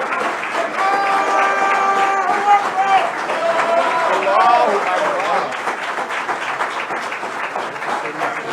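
Warm applause from an event audience honoring Minister Hafeez Muhammad, a dense steady clapping that carries through with faint tonal music and crowd voices underneath.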